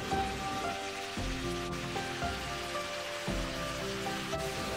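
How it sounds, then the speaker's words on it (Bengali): Mutton pieces sizzle in a pan for mutton rogan josh, a dense, steady hiss like rain with a low repeating hum beneath, continuous and close. "এবার এর মধ্যে দিয়ে দিচ্ছি আগে থেকে ধুয়ে পরিষ্কার করে রাখা মাংসের টুকরো"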